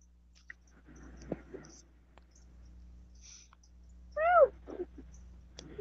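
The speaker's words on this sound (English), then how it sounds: "Relax, it's my cat." A house cat gives a single short meow partway through, fairly clear against a quiet room with a low steady hum and a few scattered clicks and knocks.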